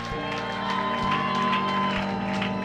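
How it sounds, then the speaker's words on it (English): Church congregation at a women's conference clapping along, steady rhythmic hand claps blended with crowd voices over a sustained musical drone and bass pulses. "Please keep celebrating, keep clapping."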